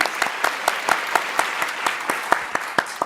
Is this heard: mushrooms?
no